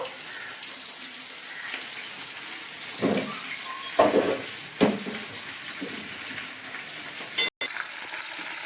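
Pomfret fish fry in hot oil with a continuous soft sizzle, punctuated by a few clanks and scrapes of a utensil handling the pieces.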